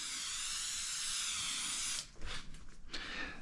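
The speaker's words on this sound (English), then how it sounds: "just spray it on." Alcohol-based cleaner sprays from a bottle onto car paint before a ceramic coating: a steady close hiss for about two seconds, then a few short quieter spurts.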